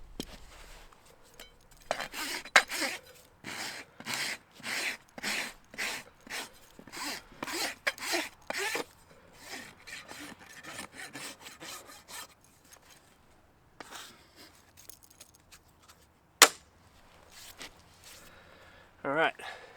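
Rhythmic rasping strokes of a farrier's rasp on a horse's hoof with a large toe crack, about a dozen quick scrapes in a row, then a pause and a few more, close up with someone talking between passes.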